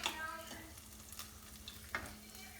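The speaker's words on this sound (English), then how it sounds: "I'm going to stir it." Risotto being stirred in a pan right after a ladle of broth goes in, with soft, faint scraping and a gentle simmering sizzle, plus a couple of light spoon knocks.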